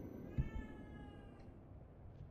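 A cat in a survival-crafting video game gives a single short meow near the start, faint beneath a steady game background hum.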